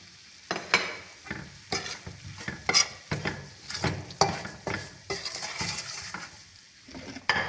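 Plenty of celery sautéing in a pan, stirred in a steady rhythm of scraping strokes over a continuous sizzle, close and fairly loud, with no talking.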